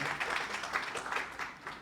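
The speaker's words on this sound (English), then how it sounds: "Another big round of applause for the program" Audience clapping at a program launch event, a brief burst of steady applause from a crowd, moderately distant and fairly soft.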